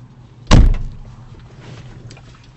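A John Deere tractor's cab door slams shut once with a loud, close thud, then a low hum lingers inside the cab.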